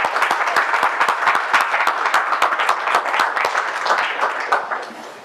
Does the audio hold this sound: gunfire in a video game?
no